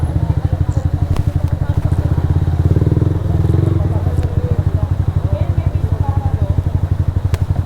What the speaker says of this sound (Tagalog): Tabi, tabi, tabi. May parating na motor.